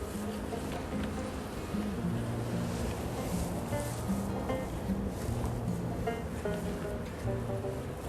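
Bees hum around an open apiary hive, a calm, continuous low buzz with overlapping droning tones drifting in and out, steady and moderately close throughout.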